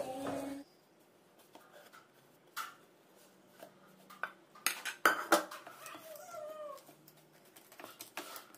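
Chickpea and jaggery barfi is poured into a tray to set, with scattered metallic clinks and scrapes of pans and utensils, a few sharp knocks and short clatters against a quiet background.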